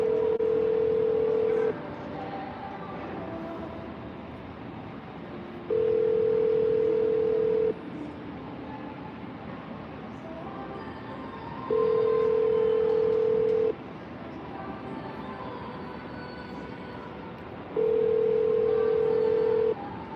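Outgoing phone call ringback: four long steady tones about two seconds each, spaced roughly six seconds apart over a faint hiss, close and clear with no voices.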